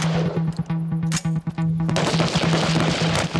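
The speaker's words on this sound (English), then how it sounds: "Gunshots going off this side, and you shoot, and more gunshots going off that side." Rifle shots ring out during army recruit weapons training: a rapid series of sharp cracks and bursts, some overlapping like a fusillade, with a steady low hum beneath and no talking.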